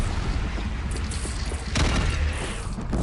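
A bridge is shot down and collapses in Horizon Zero Dawn, a loud, continuous rumbling roar with a heavier crashing burst midway through.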